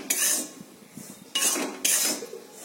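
A spoon works dough around a pan in a few sharp metallic scraping strokes, each a brief clatter separated by quieter gaps, with no voices.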